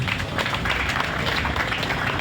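A crowd at a school year-end closing ceremony claps and applauds continuously, a dense steady patter of many hands with no pauses.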